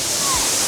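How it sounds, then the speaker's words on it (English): Tarra Falls pours through rainforest in a steady, loud broadband rush of falling water, with a voice briefly audible over it. "This place is just waterfall after waterfall"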